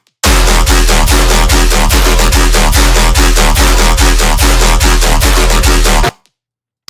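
Unprocessed electronic bass group from a dubstep remix, a loud steady pounding beat with repeated heavy low hits and dense layered synths, playing alone before cutting off abruptly near the end.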